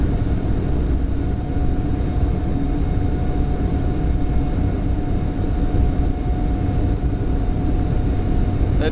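Four engines of a Boeing 747-8F freighter roar at takeoff thrust from inside the cockpit, a loud, unbroken broadband rumble with a steady whine riding over it.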